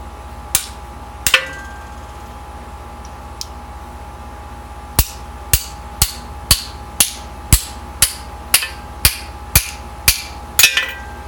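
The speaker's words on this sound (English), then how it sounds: "They're gonna use a Chinese socket to pound it." A socket used as a seal driver is hammered to seat a seal in an R50 Mini Getrag 5-speed transmission: a few scattered metallic strikes, then a steady run of about a dozen sharp, evenly spaced blows, loud and close.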